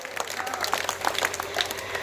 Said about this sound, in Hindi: आप लोग बड़ा अच्छा ताली बजा रहे हो